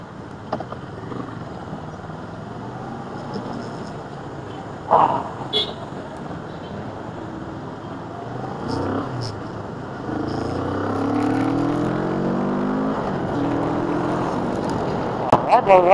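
Road traffic on Commonwealth Avenue, a steady wash of car and engine noise that swells louder in the second half, with passing vehicles and people talking over it.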